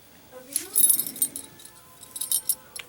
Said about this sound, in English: So there's the keys.